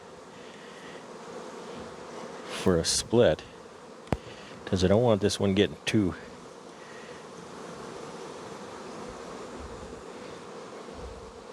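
Honeybees swarm loudly around an open hive during a colony split, a continuous close drone that carries on under two short bursts of someone talking.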